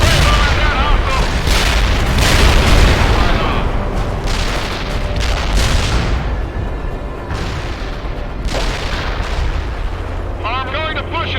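Tank main guns fire shells in a World in Conflict battle, heavy booms and blasts landing in quick succession over a dense, loud din of combat, with radio-style voices talking over the noise.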